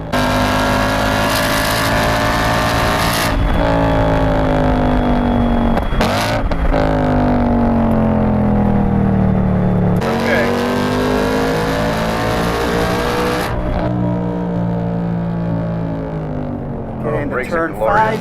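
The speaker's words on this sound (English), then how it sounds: "You forget how glorious a V8 sounds." A 2021 Ford Mustang Mach 1 with the Handling Package and V8 engine roars on the Road America circuit, loud and continuous, rising through gears with sharp shift breaks while people talk inside the car.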